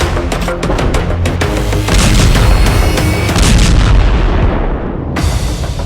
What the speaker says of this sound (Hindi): हेलफायर के धमाके से दहल गई पुतिन आर्मी।